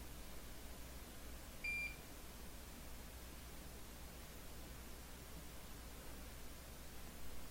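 A Hakko soldering station gives one short, clear electronic beep over a faint steady hiss in a quiet workshop during phone repair work.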